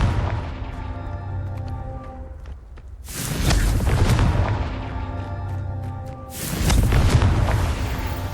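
Two heavy booming blasts from the Confringo explosive spell in the video game Hogwarts Legacy, each hitting hard and rumbling away over a couple of seconds, with a game music bed underneath.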